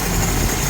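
A 1984 Toyota pickup engine running at its first start, a steady, smooth low rumble at idle that holds even and loud through a short stretch with no voices.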